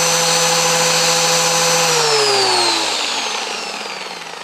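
A homemade electric flour mill grinding wheat whines loudly and steadily, then its pitch slides downward as the motor is switched off and spins down, fading toward quiet at the end.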